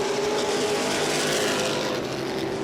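Modified race cars roar around Langley Speedway, a loud, sustained engine drone that holds steady through the whole stretch with no distinct pass-by, and no talk over it.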